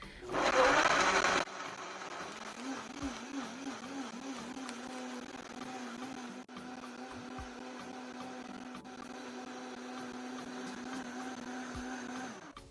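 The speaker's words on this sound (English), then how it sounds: "I'm going to blend them with all my caramelized vegetables." A blender whirs steadily as it purées fresh quartered tomatoes with caramelized vegetables for jollof rice, holding a continuous motor hum after a louder burst at the start.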